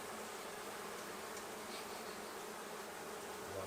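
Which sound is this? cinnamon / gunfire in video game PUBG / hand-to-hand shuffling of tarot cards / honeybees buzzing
honeybees buzzing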